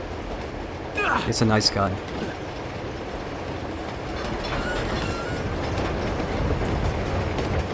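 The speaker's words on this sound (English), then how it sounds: "The swaying train with the, oh my." A train in the Uncharted 2 video game sways and rattles along on its rails, a steady rumbling clatter under players talking, with a few sharp metallic clanks near the start.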